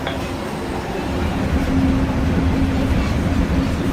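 A People Mover train rolls along the track with a steady low rumble and faint wheel hum, growing a little louder as it moves.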